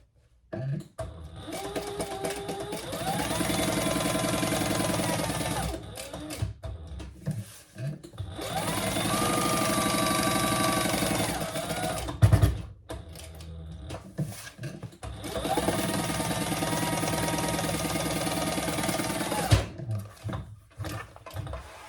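A sewing machine stitches around a slip pocket on a messenger bag in three long, loud runs, each several seconds, separated by short pauses.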